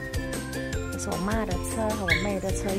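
A pet poodle gives short yips and whimpering barks at home, close and mixed in with someone talking over it.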